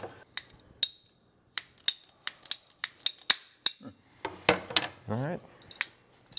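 Sharp repeated snips as sections are cut for a DIY hydroponic aeroponic cloner, about a dozen crisp cuts in an uneven rhythm, close and fairly loud, with a voice speaking briefly near the end.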